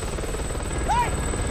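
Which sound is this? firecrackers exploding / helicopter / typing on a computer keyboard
helicopter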